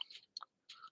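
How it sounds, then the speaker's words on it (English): Gulps of a morning cup of coffee taken right at the mic: a few short, wet mouth and throat sounds in quick bursts, with a brief quiet gap in the middle. "I'm sorry about the gulping, folks."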